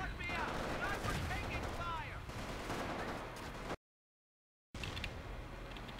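Gunfire and mortar blasts in the Modern Combat strategy game, a dense continuous stream of shots and booms under a commentator's voice, cutting out briefly before resuming.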